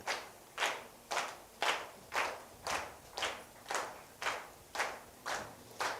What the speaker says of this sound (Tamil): இயேசுவின் நாமத்தில் கைத்தட்டு அடங்குவதாக